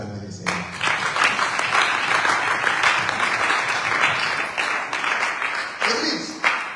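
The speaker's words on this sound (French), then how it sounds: "Est-ce qu'on peut acclamer les Seigneurs?" A church congregation breaks into sustained applause, a dense roomful of clapping that swells and holds loud and steady, with voices calling out over it near the end.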